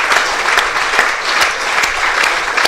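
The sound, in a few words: applause from the crowd at a cricket ground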